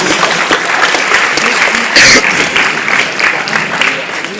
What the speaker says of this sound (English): Clap your hands for our volunteers.